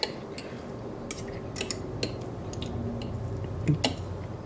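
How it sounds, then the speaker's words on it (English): A fork scrapes and taps through a mashed potato topping on a casserole-style supper, giving scattered soft clinks and squishy scrapes at close range with no talking. "now you can do it with fork things or smooth it and fluff it"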